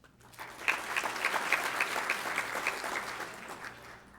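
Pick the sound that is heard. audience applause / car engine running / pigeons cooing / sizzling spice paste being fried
audience applause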